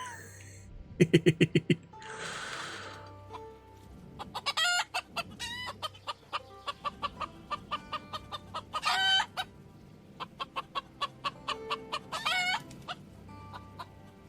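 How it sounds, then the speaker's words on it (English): Chickens in the video game Hardspace: Shipbreaker cluck in quick repeated bursts, with an early crow and a short squawk, loud and close throughout. "And I hear the calls of the chickens from Mr. Lee there."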